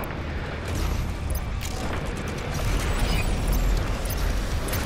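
A grenade goes off in Doom Eternal amid continuous dense combat noise, a broad rumbling roar that swells slightly toward the end and never drops to quiet.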